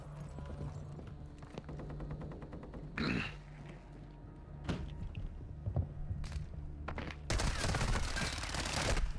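A pellet gun fires in Call of Duty multiplayer, several sharp shots in quick bursts, ending in a dense rattling volley, over a steady low game background hum with no talk.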